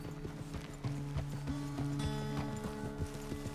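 Horse hooves clip-clop at a steady walking rhythm in the video game Red Dead Redemption 2, close and even, over a low sustained musical drone.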